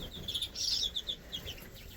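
Greenfinches and other native finches in an indoor birdroom give a rapid run of thin, high chirps and tweets, fairly faint and close together, over a quiet room background.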